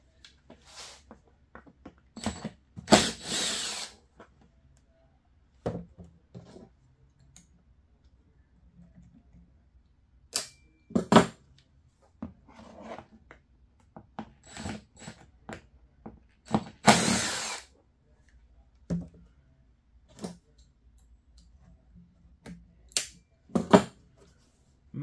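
Torx bolts being backed out of a Generac IQ2000 inverter generator with a power tool, heard as scattered short whirring bursts and clicks spread through a quiet stretch, some louder and close, others faint.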